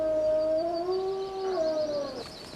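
Wolves in a forested research enclosure howl together, several sustained rising and falling tones overlapping for a couple of seconds, close and fairly loud, with no talk.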